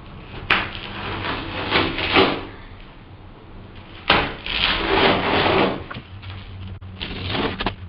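Insulation on a trailer wall is trimmed by hand, giving several scraping, rubbing cuts in separate bursts, close and fairly loud, with quieter handling sounds between them and no talk.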